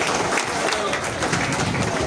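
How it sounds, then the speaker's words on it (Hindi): Parents and attendees at a school meeting clapping for the Hailakandi block, a dense, steady round of applause from a crowd filling the room, moderately loud and continuous throughout. "हाईलाकंदी ब्लॉक के लिए जोरदार तालियां तो बजा लीजिए"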